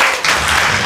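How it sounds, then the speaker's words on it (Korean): A short, loud burst of applause from a Korean church congregation during a sermon, dense clapping lasting under a second. "박수."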